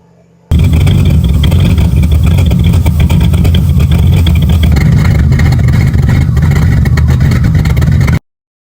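A C4 Corvette engine idling high just after a start, with an exhaust leak at the headers, makes a loud, steady, rough drone that runs unbroken close by.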